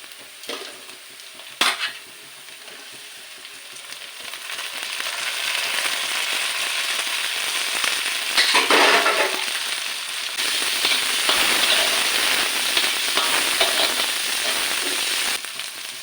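Tomatoes and green chili tipped into golden brown onions frying in a pan, a couple of sharp clanks and then a strong steady sizzle with stirring that continues to the end.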